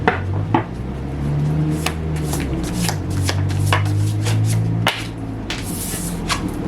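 Tarot cards are shuffled close by in quick riffling bursts with sharp snaps and slaps, over a steady low hum, with no talking.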